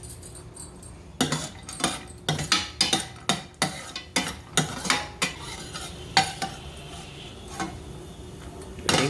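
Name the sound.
cashews and raisins frying in hot ghee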